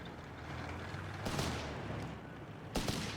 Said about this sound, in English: Rifle grenades and grenades being exchanged here.